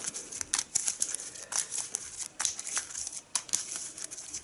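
Playing cards from the Mage Knight board game riffled and shuffled close up in quick repeated bursts, crisp papery flutters with brief gaps between them.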